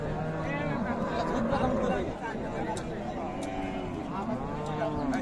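Cattle, including Sahiwal cows with calves, moo repeatedly at a busy rural livestock market in Dinajpur, the lowing calls rising over constant crowd chatter and people talking.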